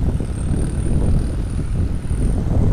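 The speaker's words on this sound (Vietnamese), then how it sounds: "Xe máy cày đang kéo thúng bà con mình lên gia đình" A tractor on the beach pulls fishermen's round basket boats up the sand, a low, rumbling engine drone mixed with wind buffeting, steady and fairly close with no voices.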